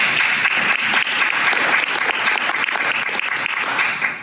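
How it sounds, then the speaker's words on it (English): An audience at a public utility district candidate forum gives a round of applause for the candidates, a full, even wash of many hands clapping that is close and sustained for the whole stretch. "round of applause, say thank you for running"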